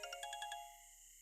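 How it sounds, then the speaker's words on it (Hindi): A phone ringtone plays a short bright melodic phrase of repeated chiming notes, then a final held tone that slowly fades, fairly quiet and alone in an indoor scene. "उठी, फोन बजदा पे, फोन ता सुन।"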